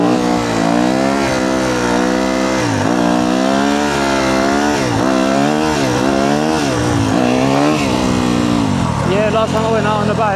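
Yamaha YZ250F dirt bike engine revving hard during street wheelie practice, a loud, continuous close engine roar with rising and falling pitch as the throttle is worked.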